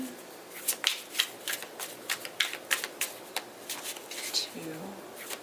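Tarot cards are shuffled by hand, giving a scattered patter of soft riffling clicks and flutters, fairly close, with faint background hum.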